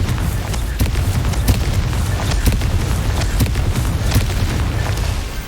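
A Confringo fire-spell explosion in Hogwarts Legacy, heard as a continuous loud rumbling roar of blasts with sharp crackling bursts throughout, close and full, with no voices.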